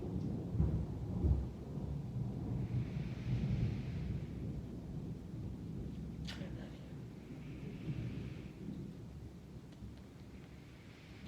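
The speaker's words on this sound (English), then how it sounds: "we're gonna have a big old lightning thunderstorm tonight" A nighttime thunderstorm with lightning: low rolling thunder rumbles over steady rain, and one sharp crack stands out midway, all fairly quiet and distant.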